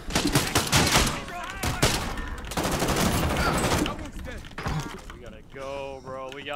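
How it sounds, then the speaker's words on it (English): Gunfire rattles through a chaotic zombie warzone video game match, dense bursts and shots layered with game effects, while players talk over the action near the end. "We're getting shot at."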